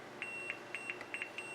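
A multimeter in continuity mode beeps while probing a relay output board. The short, faint, high electronic beeps come in an irregular series of about eight, with no voices.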